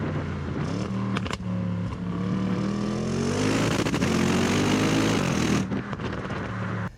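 An Audi RS6 C7 engine roars under full-throttle acceleration inside the car, revs climbing steadily for several seconds with a deep loud drone before easing off near the end.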